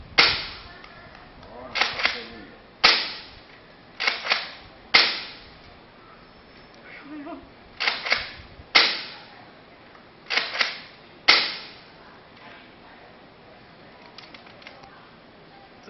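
A Nerf blaster loaded with Elite foam darts and fitted with a five-kilogram spring fires a series of sharp, snappy shots in irregular bursts, each with a quick decaying tail, outdoors with light wind.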